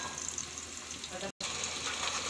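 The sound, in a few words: masala paste frying in oil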